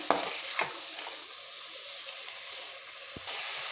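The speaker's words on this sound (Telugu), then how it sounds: "ఈ ఆనియన్ పీసెస్ మొత్తాన్ని ఆయిల్లో వేసినట్టు మంచిగా వీటిని కలుపుకోవాలి" Onion pieces fry in hot oil for an egg fry, giving a steady close sizzle and hiss, with a few sharp scraping stirs near the start and another near the end.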